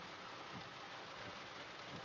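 Steady rain pattering continuously, a dense even hiss with no voices, as if falling on a roof or car.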